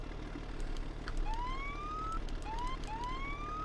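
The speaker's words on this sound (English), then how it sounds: "It's got a siren." A brush truck siren in the Farming Simulator 15 video game rises in repeated upward wailing sweeps, clear and prominent over a low engine drone.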